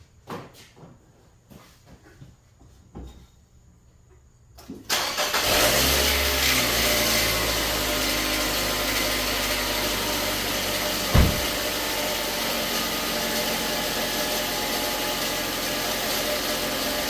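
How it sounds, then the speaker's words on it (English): A car engine cranks and catches about five seconds in, then settles into a steady, loud idle that runs on with a single brief thump partway through; quiet handling noises come before the start. "Now I'm going to start the car up"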